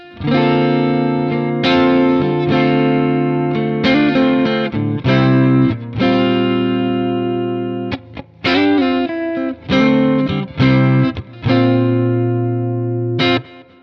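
Electric guitar through a Quad Cortex modeler playing chords and short phrases with a clean, bright tone and a touch of shimmer, ringing loud with brief pauses between passages.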